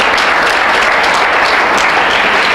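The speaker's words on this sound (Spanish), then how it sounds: "Dele un aplauso al Señor." A church congregation applauds during a sermon, producing a loud, dense, continuous wash of many hands clapping at once without any speech over it.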